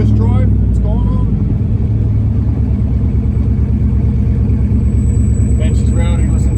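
A rebuilt Holden 304 V8 with a big cam idles loud and close through straight side-pipe exhaust, a steady lumpy chop with a brief blip of revs near the start, and a person talking over it.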